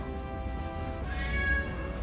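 A cat released in a new Toronto apartment gives a long, drawn-out, insistent meow, loud and close, its pitch wavering and rising slightly partway through, with no talking over it.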